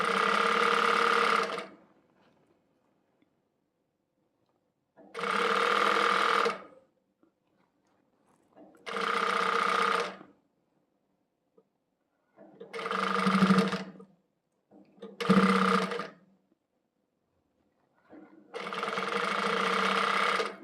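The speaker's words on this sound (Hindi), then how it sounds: "अभी मैं आपको सिलाई लगा के दिखाती हूँ।" A sewing machine stitches a shirt sleeve to the shoulder in six separate runs, each a close, steady whirring burst of one to three seconds separated by quiet pauses.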